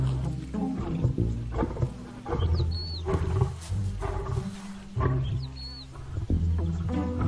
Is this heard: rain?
no